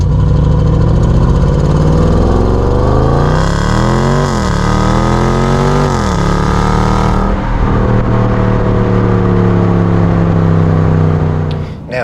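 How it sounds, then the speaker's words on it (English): Supercharged V8 of a Range Rover Sport making over 500 horsepower, idling then blipped in two sharp revs that swell and fall away, loud and close, settling back into a deep steady rumble. "it does have a supercharged V8 making over 500 horsepower"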